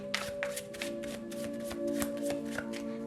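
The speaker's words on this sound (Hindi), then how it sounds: "तो चलिए शफल कर लेते हैं" Tarot cards shuffled by hand in quick, crisp riffling bursts, a steady run of close papery flutters and slaps with a faint background hum and no talking.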